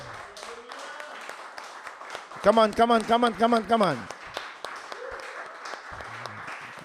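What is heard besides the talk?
congregation clapping for the Lord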